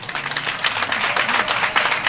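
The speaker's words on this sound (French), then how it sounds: "Pas des applaudissements nourris," An audience claps for an International Women's Day celebration, a close, steady burst of applause.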